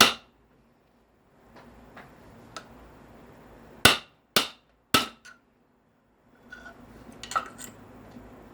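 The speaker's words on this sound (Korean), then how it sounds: "위에 망치를 때리고, 대고 때립니다" Three sharp metallic hammer strikes on an electric fan motor ring out in quick succession, each with a short clanging decay, surrounded by quieter handling and scraping noises.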